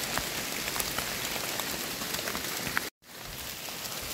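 Steady heavy rain pouring down while mushrooms are gathered in the countryside, a dense, constant hiss of drops on surfaces, broken by one brief dropout near the end.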